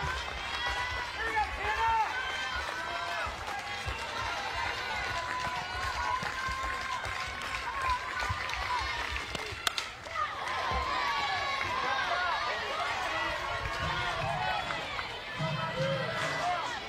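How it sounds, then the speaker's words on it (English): Crowd at a 2019 SEC softball championship game between Florida and Alabama, a steady roar of cheering and clapping that keeps going from start to finish, with commentators talking over it. "This crowd's been pretty into this game, too, today."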